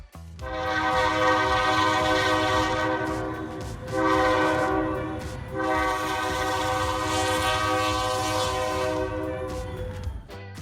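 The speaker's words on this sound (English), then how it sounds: "after a heavy snowfall, special trains are clearing the rails" A snow-clearing train rumbles loudly along the rails after heavy snowfall, its horn sounding in long, sustained blasts that swell, fade and return.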